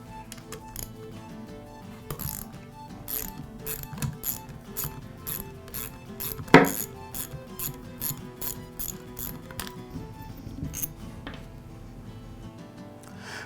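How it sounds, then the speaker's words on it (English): A ratchet takes the head bolts off an air compressor pump with repeated rhythmic clicking strokes, close and clear, broken by one sharp metallic clack partway through. "the next step is to remove the head bolts"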